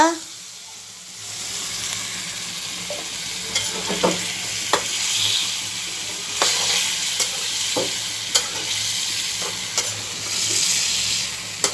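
Chicken pieces hit hot oil in a pan and sizzle loudly and steadily, with repeated scrapes and clacks of a spatula stirring them.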